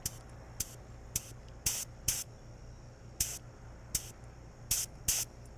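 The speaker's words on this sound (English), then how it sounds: "I'm going to try to get the right spray pattern here." Short bursts of spray hissing as a spray gun applies Gun Kote coating to a red dot sight, about ten quick pulses of varying length over a low steady hum, fairly close and crisp.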